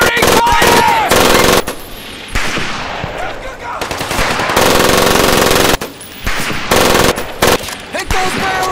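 Sustained bursts of loud machine-gun and rifle fire provide covering fire in Medal of Honor Pacific Assault, hammering in rapid volleys separated by short pauses, with shouted voices in the mix.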